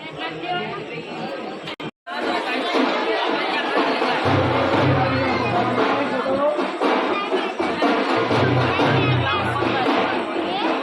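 Dense crowd babble from a large gathering of people queuing at a temple in Ujjain, a steady loud hubbub of many overlapping voices with occasional low rumbles, continuing almost without pause.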